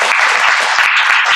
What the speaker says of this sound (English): let's end here by giving another big round of applause